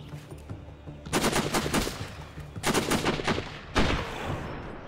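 Sniper rifle gunfire from the video game Sniper Ghost Warrior rings out in three separate clusters of sharp, loud cracks with echoing tails and brief pauses between them, with no talking over it.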